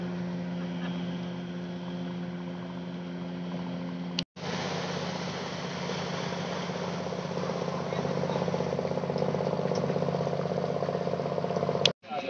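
A boat with a Yamaha outboard engine at Mangla Dam runs with a steady mid-pitched drone that grows slightly louder toward the end, broken by two brief sharp cuts.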